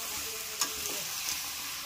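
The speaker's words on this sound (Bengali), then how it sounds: "এবার দিয়ে দেবো চিকেন আর কাঁঠালটা একসঙ্গে দিয়ে দেবো, ভালো করে কষিয়ে নেব।" Chicken and jackfruit frying together in a pan while being stirred, a steady low sizzle with a couple of soft scraping stir sounds, close and fairly quiet, no talking.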